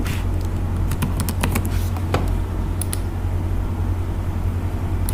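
Someone types a first name on a computer keyboard, producing a quick cluster of crisp keystrokes early on and a couple of later taps over a steady low hum of background noise.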